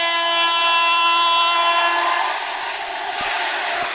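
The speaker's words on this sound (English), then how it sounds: "This train, this blue train." A blue Indian passenger train sounds its horn in a loud, sustained blast for about two seconds, then fades into the steady rumble and clatter of the moving carriages close by.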